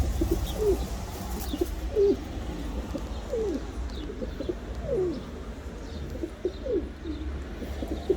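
A female bird repeatedly gives deep, rising coo-like calls like a male's in a steady series over a low rumbling background, fairly close and moderately loud.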